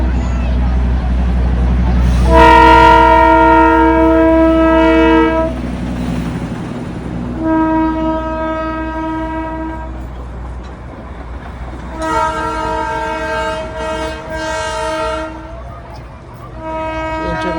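A train in Darjeeling passes close by and sounds its horn three times, each a loud sustained blast of a few seconds over a steady low rumble, with people talking around it.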